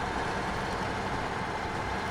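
A heavy truck engine strains and labours under load in SnowRunner, while hauling in Maine. The drone is steady and broadband, with a dense low rumble, loud and close, and no talk over it.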